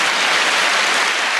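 A round of applause for a podcast guest: a dense, steady wash of clapping, loud and continuous with no voices over it.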